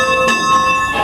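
The bell of a 1912 Baldwin steam locomotive rings loud and close with a sustained metallic tone and bright overtones, struck twice within about a second.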